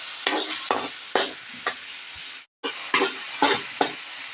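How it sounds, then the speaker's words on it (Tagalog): Onion and tomato sauté in a hot pan, with a spatula scraping and stirring in repeated short strokes over a steady sizzle and a brief pause near the middle. "Gisa natin ang sibuyas. Inilagay na natin ang kamatis."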